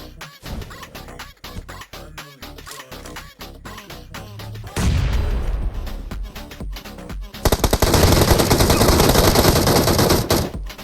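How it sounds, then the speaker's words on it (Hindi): Automatic gunfire in BGMI PUBG Mobile, starting as sparse single shots, then a denser burst midway and a loud sustained rapid-fire volley toward the end, with no talk. "ये मेरे ऊपर गोली चलाता है"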